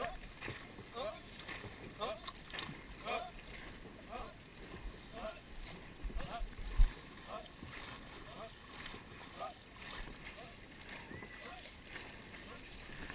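Dragon boat crew paddling on open water during a full run, with rhythmic splashy paddle strokes roughly every second under wind noise and a coach calling out.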